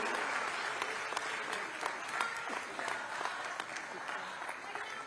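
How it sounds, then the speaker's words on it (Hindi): Applause fills a hall at a ceremony for a Chhattisgarh handicraft development body, a steady wash of crowd clapping with sharper individual claps standing out, moderately distant and with voices faintly mixed underneath. "तालियों की आवाज और ज्यादा होनी चाहिए"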